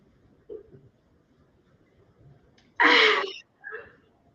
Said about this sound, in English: all this powder about to make me sneeze